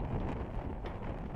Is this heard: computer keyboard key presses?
no